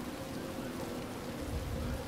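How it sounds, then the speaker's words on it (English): Steady rain in the video game Batman: Arkham Asylum, a dense, constant hiss of falling water with a low rumble underneath, heard alone at moderate level. "Of course, sure, it's raining."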